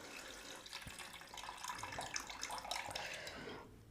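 Running tap water splashes over grated raw potato in a sink-side bowl, rinsing out the starch: a steady, close broadband gush with irregular splatter, continuous for about four seconds before cutting off abruptly.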